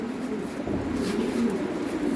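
A pair of Lahori Shirazi pigeons keep up a low, steady cooing, fairly close and even in level, with no voices over it.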